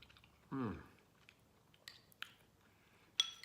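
Someone chewing a bite of shrimp with lobster sauce, Cantonese style: a few soft, close mouth and chewing sounds with small wet clicks, after a brief vocal murmur, fairly quiet overall.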